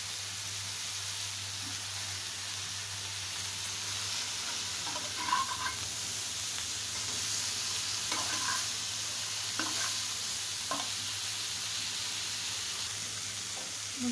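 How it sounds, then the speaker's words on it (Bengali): Cauliflower pieces fry in a pan with a constant soft sizzle and hiss. Scattered stirring scrapes and clinks come and go, and no one speaks. "আপনি এখন ফুলকপিটাও অনেক সুন্দর করে ফ্রাই করে নেব।"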